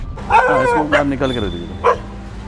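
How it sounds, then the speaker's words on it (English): Several dog barks and yips close by, rising and falling in short bursts, with a person talking over them. "They are barking at me."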